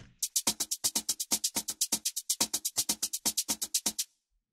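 A percussive loop processed with vintage-style compression and tape saturation plays a fast, even run of bright hissy hits, like shakers or hi-hats, close and alone before stopping abruptly.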